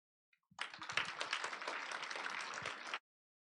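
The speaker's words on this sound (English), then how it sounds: "round of applause for high school, please" A high school audience at an English speech contest breaks into a short, dense burst of applause lasting a few seconds, fairly quiet and even, then stops abruptly.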